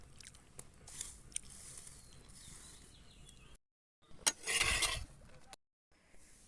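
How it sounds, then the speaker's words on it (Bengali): Close, soft chewing and biting sounds from someone eating roti with meat curry in a village home, moist and irregular, cut by brief silent gaps. "এখন একটু খেয়ে নিচ্ছি"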